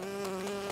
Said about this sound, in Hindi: अरे नहीं, मधुमक्खी,